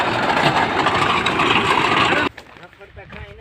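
A tractor engine runs with a rotavator attached, cutting castor and cotton stalks in a field; the loud, steady roar holds for about two seconds, then drops abruptly to quieter rumbling.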